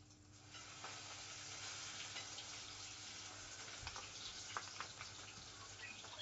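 Bacon-wrapped, cornflake-coated chicken fries in a pot of oil, giving a steady, close sizzle with bubbling and hissing that holds through the whole stretch, with no talking.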